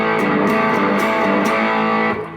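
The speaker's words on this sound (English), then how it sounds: "it's a great distortion, like a Marshall." Electric guitar played through a Wampler Velvet Fuzz pedal set to its tight, Marshall-like distortion side; a short sustained distorted chord with a few picked accents, loud and close, cutting off near the end.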